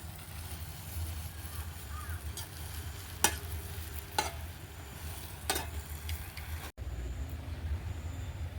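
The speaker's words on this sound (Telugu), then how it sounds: "ఒక ఆకే బాగా ఫ్రై చేసుకో." Spinach and other leafy greens fry in a pan for an Indian mixed-leaf pickle, giving a low, steady sizzle with a few sharp utensil clinks, close by and moderately quiet, with no talking.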